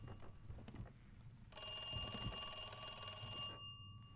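A telephone rings in the video game Resident Evil 2, a bright, sustained electronic ring lasting about two seconds over quiet in-game background sounds.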